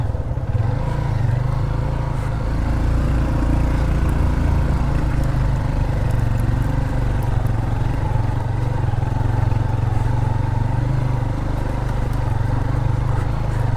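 A Honda CB150F motorcycle ridden off-road on a rough mountain trail: a steady, close engine drone with a low throbbing rumble and uneven texture from the bumpy ground, continuous throughout with no talk.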